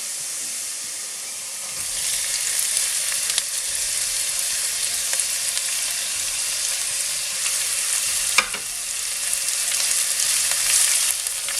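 Chopped onions dropped into a pan of golden-brown fried garlic for a salmon curry, setting off a loud, steady broadband sizzle that swells after a quiet start, with a few faint utensil taps and no talking.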